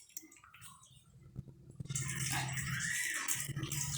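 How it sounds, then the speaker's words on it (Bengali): Hot falooda jelly is poured from a pot into a flat container, a soft liquid splash that starts faint and becomes a steady, fairly loud pour for the last two seconds. "আমি এভাবে একটা পাত্র নিচ্ছি এবং জেলিটাকে এর ভিতরে ঢেলে দিচ্ছি।"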